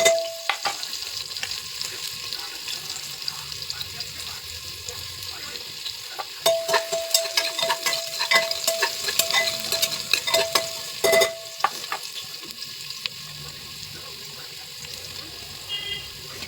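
Chopped onion frying in hot oil with crackling cumin seeds, a steady close sizzle with occasional stirring clatter and faint tap-water sounds.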